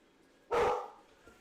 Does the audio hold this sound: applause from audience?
no